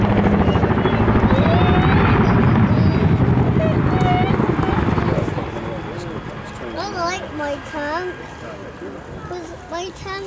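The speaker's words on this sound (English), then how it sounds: "there was a good demonstration of the characteristic blade slam of the" Boeing CH-47 Chinook twin-rotor helicopter beats out a loud, heavy rhythmic blade slam nearby, then the thudding fades somewhat as people talk over it.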